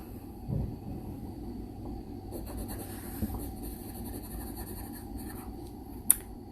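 Pen or pencil writing a name at the top of a beginning-sounds practice worksheet, a soft continuous scratching close by with a brief sharp tick near the end, no talk.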